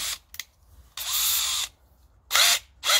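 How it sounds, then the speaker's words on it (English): A cordless driver runs in three bursts of whirring as screws are driven into old sheet tin for a garden bed: a long steady run, then two shorter ones, loud and close, with brief clicks between. "you put the driver in there, put it in forward, hold it with your hand"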